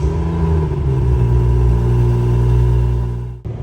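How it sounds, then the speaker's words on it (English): A BMW F30 340i running on the road, a deep steady engine drone with tonal hum that holds strong and close before cutting off abruptly near the end. "So let's go ahead and hop in the car and do some driving"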